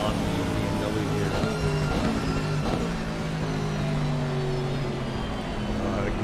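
BMW race car engine in a sim racing game on a wet Monza circuit, a steady droning whine holding and shifting pitch, with a commentator talking over it.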